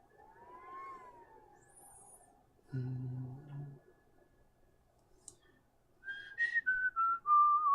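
Soft whistled tones sliding up and down, a brief low hum in the middle, then a louder series of descending whistled notes.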